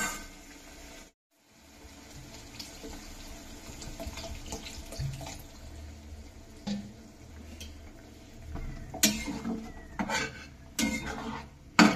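Water poured into a pan of goat meat curry masala, a continuous splashing, hissing pour with some clinks of a pot and utensil, louder bursts near the end, no speech.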